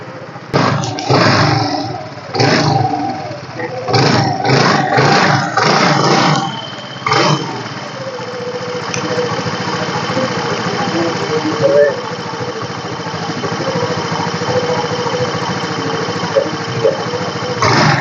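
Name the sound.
2011 TVS Scooty Pep scooter engine starting and idling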